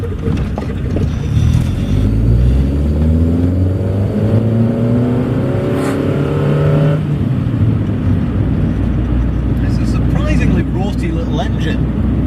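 Small engine of a Triumph Acclaim heard from inside while driving, a steady hum whose pitch climbs and falls as it revs below about 3,500 rpm, with someone talking over it throughout.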